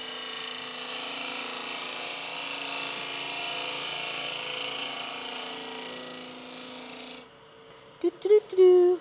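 A hollowing tool cutting wood on a lathe, a steady, faint whirring scrape with a tonal hum that runs for several seconds and then stops, followed by a few brief louder sounds, with a voice speaking at points.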